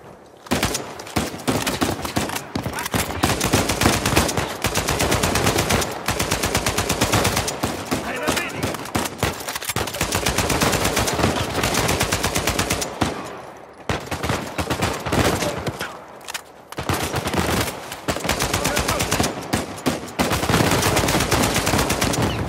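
Rapid, dense bursts of gunfire from the video game Uncharted 4 crackle almost nonstop, loud and close, with brief pauses between volleys and occasional faint voices.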